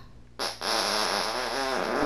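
A long, loud, wet fart sound effect from Call of Duty Warzone breaks out suddenly after a quiet moment, stays close and sputtering with a rippling buzz for well over a second, and dies away as the clip ends.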